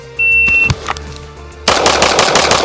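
Rapid pistol gunshots fired from an Atlas Titan RDS at a shooting range during a timed reload drill: a loud opening shot, a pause, then a fast string of close, sharp cracks.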